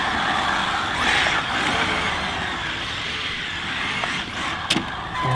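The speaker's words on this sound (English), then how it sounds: "Oh man, this thing drifts good." A ZD Racing EX-07 RC car on a 4S battery drifts around, making a high whining motor and tire-scrubbing hiss that swells and fades steadily, with a few sharp clicks near the end.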